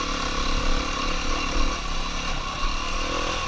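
A dirt bike engine on a single-track trail ride in fall woods, its close, loud drone rising and falling with throttle changes and clutch work, continuous throughout without speech.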